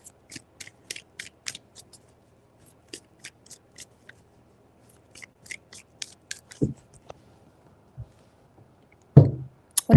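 Tarot cards being shuffled close up: rapid bursts of crisp riffling clicks in short repeated runs, then sparser taps and a couple of louder handling thumps near the end.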